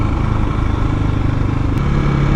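A KTM motorcycle engine drones steadily while being ridden, a continuous close, even exhaust note with no voices.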